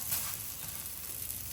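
Dosa batter poured onto a griddle that is not yet fully hot gives a short, soft, steady sizzle with no voices.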